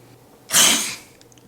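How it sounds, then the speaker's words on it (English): A single loud, breathy sneeze bursts out close and alone, swelling sharply and then trailing off into a hiss. "The dinosaur sneezed, but it was more like an explosion."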